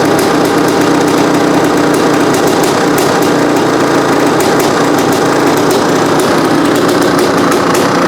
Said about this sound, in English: it's a pretty decent idle